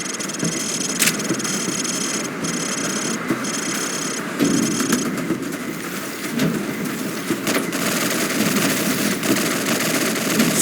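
Rapid gunfire rattles steadily from a shooting range in Call of Duty 4: Modern Warfare, sustained bursts over a low engine-like rumble, with a few sharper reports standing out.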